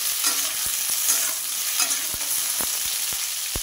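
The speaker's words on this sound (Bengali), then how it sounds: "এই তেলের মধ্যে ঝিঙ্গাটা দিয়ে দেব। দিয়ে এটাকে নাড়াচাড়া করে" Ridge gourd stirred in hot oil for a vegetarian ghonto: a steady broadband sizzle runs throughout, punctuated by several sharp scrapes and knocks of the spatula against the pan, close and fairly loud.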